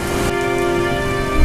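A steady hiss of falling rain, used as a sound effect in a cold-weather story, runs unbroken and fairly loud under sustained musical tones, with no voices.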